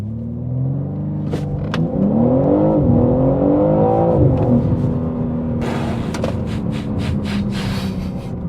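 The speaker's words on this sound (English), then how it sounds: "Can I get a quick launch in?" A BMW M3 Competition xDrive's engine revs hard and climbs in pitch during a launch, a loud rising roar that shifts gears before settling into a steady drone.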